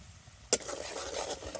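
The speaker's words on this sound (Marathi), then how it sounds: "हा सगळा मसाला आपण ह्या तेलात टाकून घेऊयात." Masala spices dropped into hot oil for chicken rassa cooked on a wood-fired stove give a sudden sharp crackle that settles into a steady soft sizzle.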